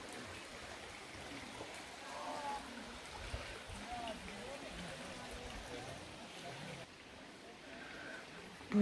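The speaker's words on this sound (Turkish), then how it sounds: "Tertemiz sular akıyor ya." Clear water runs along a stream through a canyon near Ankara, a steady close wash of flow with a person speaking over it.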